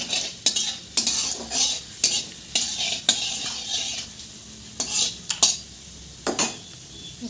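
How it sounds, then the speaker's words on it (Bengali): Ginger, garlic and onion paste stirred and fried in hot oil with cumin and chopped garlic in a pan, heard as repeated sharp spoon scrapes and clinks over a steady close sizzle, with no talking. "মশলাতে আছে আদা, রসুন, পেঁয়াজ সব কিছু পেস্ট একসাথে করেই আমরা দিয়েছি।"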